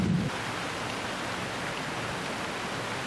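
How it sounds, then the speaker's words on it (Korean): Heavy tropical squall rain on Palawan pours down in a steady, even hiss of dense drops, continuous and moderately quiet, with no voices or other sounds standing out above the downpour. "갑작스럽게 하늘에서 거센 폭우가 쏟아졌습니다."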